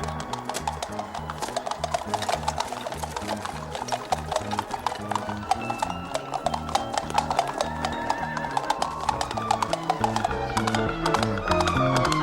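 A horse gallops in a rapid, steady clip-clop of hooves that runs the whole time, broken by repeated loud neighs and whinnies, in a scene from the 1982 fairy-tale film Donkey's Hide.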